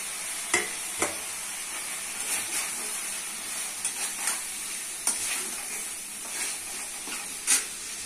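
Potatoes and drumstick stems frying in spiced oil with bay leaf, a steady sizzle and hiss throughout, punctuated by sharp stirring clicks and scrapes of a spoon against the pan.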